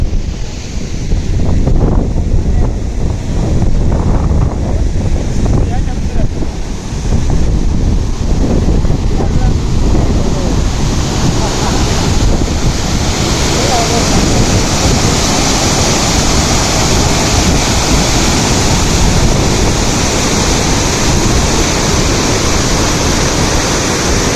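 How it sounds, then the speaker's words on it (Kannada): A powerful, loud roar of the flooded Malaprabha River rushing over the Kolachi dam barrage fills the whole stretch, with wind buffeting heavily against the microphone. "ಮಲಪ್ರಭಾ ನದಿ ತುಂಬಿ ಹರಿತಾ ಇದೆ ಉಕ್ಕೆ ಹರಿತಾ ಇದೆ"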